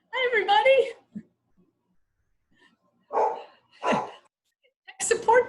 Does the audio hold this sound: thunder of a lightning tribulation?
no